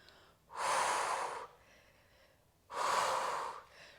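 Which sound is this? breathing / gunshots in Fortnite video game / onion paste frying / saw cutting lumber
breathing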